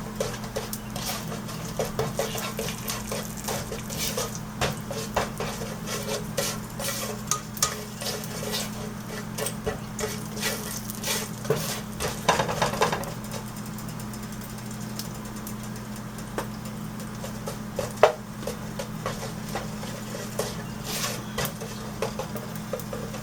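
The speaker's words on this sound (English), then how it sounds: "So we're just gonna roast it slightly." Spices dry-roast in a pan for a green beans curry, with scattered scraping and clinking of a utensil against the pan over a steady low hum, close by and without talk.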